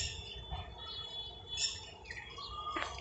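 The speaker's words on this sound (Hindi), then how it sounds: "देखो और चिड़िया भी है ना कोई। अच्छा एक ऊपर से बोल रही" Small birds squawk and chirp in quick short bursts close by, a few separate calls over a low outdoor background rumble.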